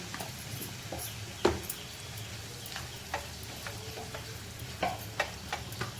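Tomato and onion with ginger-garlic paste and a little salt sizzle softly in a pan on low heat, a steady quiet frying hiss broken by a few light clicks and taps of a spoon.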